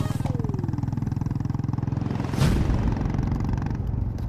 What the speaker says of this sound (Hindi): ये तो विक्रांत जी का मोटरसाइकिल का आवाज है